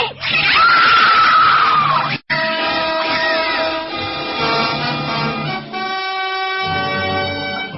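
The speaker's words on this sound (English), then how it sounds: "we all heard the screams" A woman lets out a loud, high scream up front, then a sharp cut, followed by a sustained blaring, horn-like tone with no speech.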